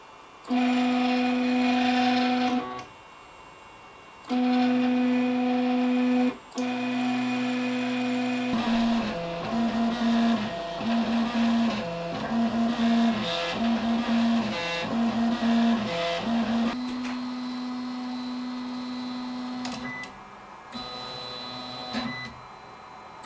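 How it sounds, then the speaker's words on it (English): A HyperCube 3D printer fitted with new stepper drivers runs close by, its stepper motors humming in sustained tonal whines that stop and restart, then stutter in quick rhythmic pulses before settling into a steady drone. "these stepper drivers and motor combination works very well and it is so much quieter than it was before"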